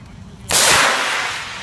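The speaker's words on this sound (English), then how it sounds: "what a difference in the explosion there" A SOLAS parachute distress flare fires with an abrupt, loud bang that opens into a long hissing whoosh, fading slowly as the rocket climbs away.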